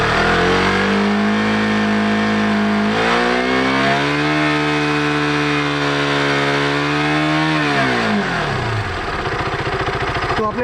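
A KTM motorcycle engine revs hard above 7000 RPM, with rising and falling harmonic whine as the throttle is held, then eases off near the end. The engine is loud and close, and no one speaks.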